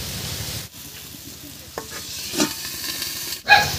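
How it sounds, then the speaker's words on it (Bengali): Fresh garden broad beans fry with salt in a pan and sizzle steadily close up. Scraping stirs come at irregular moments, and the sound cuts out sharply twice. "এবারে ঢাকা দিয়ে দিয়ে সিমগুলোকে হালকা ভাজা ভাজা মতো করে নেব।"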